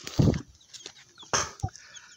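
Black Australorp chickens, a production-type breed, give a couple of short clucking calls close by, separated by quiet gaps with faint rustling.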